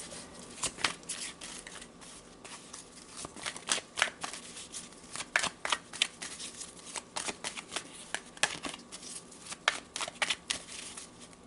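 Tarot cards are shuffled by hand in a steady run of crisp riffles and soft flicking slaps, close up and fairly quiet, with no talking.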